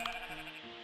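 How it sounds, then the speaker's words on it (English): A goat in the farming game Equilinox gives a single short bleat, close and clear, standing alone without talk. "And we have a goat!"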